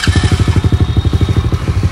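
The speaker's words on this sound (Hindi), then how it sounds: "एकदम क्विक स्टार्ट है भाई सेल्फ से, और देख सकते हो किस तरह से आइडल पे कितनी अच्छी साउंड कर रही है भाई।" A 125cc street-legal dirt bike engine idles close up, giving a loud, steady, rapid thumping pulse with a slight metallic clatter and no talk.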